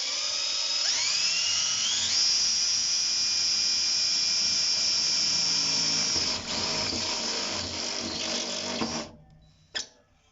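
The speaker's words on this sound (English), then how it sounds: "now I can drill the holes for them" Power drill boring holes for campervan seat rails, a loud high whine that spins up and holds steady for several seconds, then winds down into silence with a final clunk.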